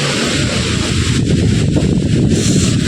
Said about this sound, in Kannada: ನೋಡಿ ಫ್ರೆಂಡ್ಸ್ ಯಾವ ಥರ ಗಾಳಿ ಬರ್ತಾ ಇದೆ